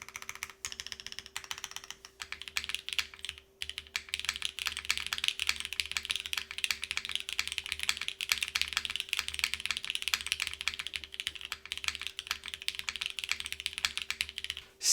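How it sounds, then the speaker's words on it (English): Steady, rapid keystrokes on a KBDFans Margo mechanical keyboard, a soft, muted clatter with dense rhythmic tapping throughout, close and fairly quiet, with no talking. "This is very soft to type on."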